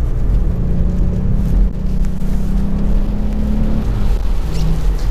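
A VW Up! GTI accelerates hard in third gear on a wet road, its engine a loud, steady low drone heard from inside the car, with the pitch rising gradually.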